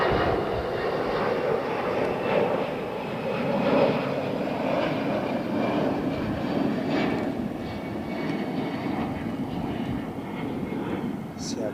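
An Aer Lingus Airbus A320 airliner in new livery at London Heathrow on runway 27R gives a steady, broad engine roar that holds loud for the whole stretch, with a voice talking over it.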